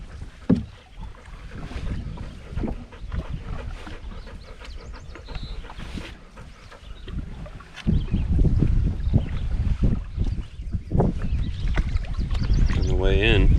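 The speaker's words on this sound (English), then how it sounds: "I took all my strength to paddle against the wind" Wind gusting over a canoe being paddled on Lake Agnes in the Boundary Waters, rough buffeting microphone noise with paddle splashes and heavy breathing, the wind growing louder and more constant in the second half.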